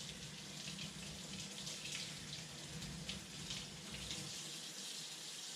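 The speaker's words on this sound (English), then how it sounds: "I'm gonna go ahead and rinse the meat down" Tap water runs steadily over crappie fillets in a sink, a soft continuous splash and hiss with no voices, faint and close.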